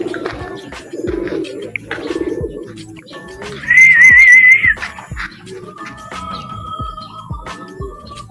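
Racing pigeons, checkers, arrive at a loft, with soft coos and fluttering wing bursts close by, then a sharp, loud, warbling whistle in the middle of the stretch before the quieter cooing resumes.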